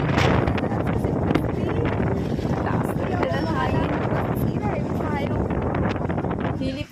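Strong typhoon Kristine winds roar and buffet the microphone in a continuous loud rush with gusty swells, while a voice talks faintly beneath the storm.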